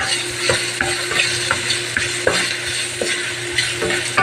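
A hotdog browns in a frying pan, giving a loud, continuous sizzle broken by repeated stirring scrapes at an uneven rhythm, with no talking.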